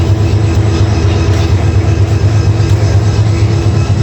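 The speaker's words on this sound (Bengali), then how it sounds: "চট্টগ্রাম ইউনিভার্সিটি এটা হচ্ছে শাটল ট্রেন" The Chittagong University shuttle train passes close by as a loud, constant rumbling roar that fills the few seconds without a break.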